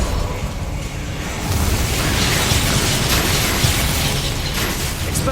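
Spell explosions from the Bombarda curse in Hogwarts Legacy roll into a sustained roaring blast with scattered crackles and pops, loud and continuous after a quieter opening second.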